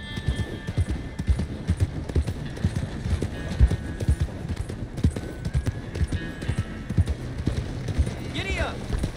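A horse gallops in Red Dead Redemption 2 with a fast, steady clip-clop of hooves close by, and a short whinny near the end.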